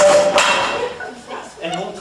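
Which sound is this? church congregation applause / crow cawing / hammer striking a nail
hammer striking a nail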